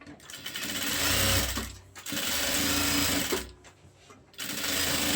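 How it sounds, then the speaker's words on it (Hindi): A sewing machine stitches along the turned hem edge of a shalwar in several loud, close bursts of rapid whirring, with short pauses between runs. "इसको आपने इस साइड पे टर्न करके किनारे की सिलाई पहले लगा लेनी है"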